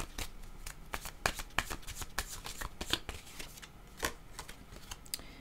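A deck of playing cards being shuffled at close range, with a quick run of crisp riffling bursts and flutters repeating over several seconds, no voices.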